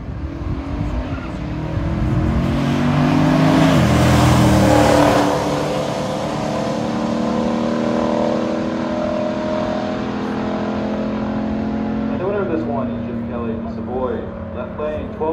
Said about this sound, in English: Now Troy Lamont from Monroeville, Indiana has a 70 Chevelle SS454.